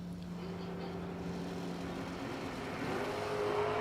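Drag racing cars launching at the strip, a 1968 Rambler wagon pulling a wheel stand alongside a Corvette, engines droning steadily and rising in a louder rev toward the end.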